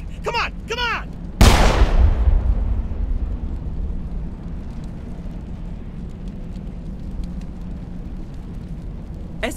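A single loud, booming gunshot from the Mass Effect video game rings out close, followed by a long rumbling decay, with brief talk just before it.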